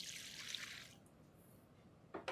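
Sake pours into a marinade in a kitchen, a soft close trickle of liquid lasting about a second before fading, followed by a faint clink, with no talk.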